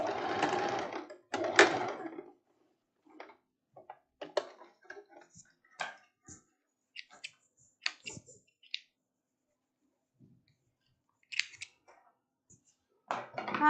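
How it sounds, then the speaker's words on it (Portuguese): Scissors snip through fabric while a simple elastic-waist pants sewing project is prepared, giving a string of short, dry crisp clicks and cuts in quiet surroundings, with a brief voice heard at the start. "que tesoura é essa que não corta?"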